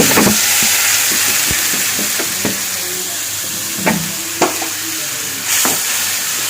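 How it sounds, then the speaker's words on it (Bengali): Water goes into a sizzling spice masala in a hot pan, producing a loud, hissing steam burst followed by bubbling and several sharp scrapes and knocks of a spoon against the pan. "দিয়ে দিচ্ছি অল্প একটু জল মশলাটা পুড়ে যাচ্ছে"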